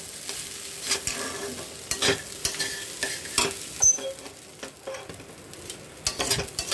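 A mixture of food frying in a pan, turning into clumps as it cooks, with soft sizzling under repeated stirring scrapes and taps in an uneven rhythm, close and fairly quiet.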